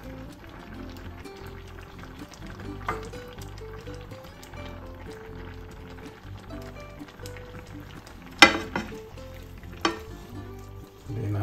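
Bitter gourd going into a hot pan of Ilocos pinakbet with bagnet, a steady low sizzle and bubbling under background music, with a couple of sharp clatters near the end.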